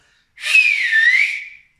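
A voice imitates a loud whistle during a children's story reading, a single clear rising-then-gliding whistled tone lasting just over a second, close and alone with silence around it.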